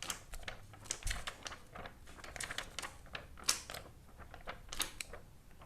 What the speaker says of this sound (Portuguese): Agora a gente vai agitar essa folha